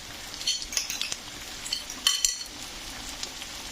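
Potato gratin with oregano being stirred in a hot frying pan: steady sizzling with scattered scraping and clinking bursts of a utensil against the pan, close and fairly quiet, no talking.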